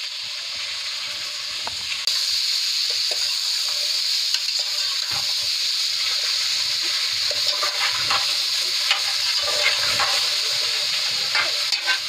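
Potatoes for aloo kurma fry in a pan, a steady close hiss of sizzling oil that holds through the whole stretch, with faint stirring scrapes and no talk.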